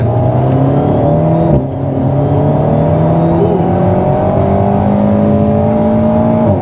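An Alpine A110 sports car accelerating, a loud steady engine drone rising in pitch through a gear, with a brief dip at a shift, heard from inside the cabin.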